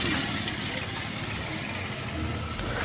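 A homemade car powered by a motorbike engine drones steadily nearby, a continuous rumbling hum as it drives along fast without pause.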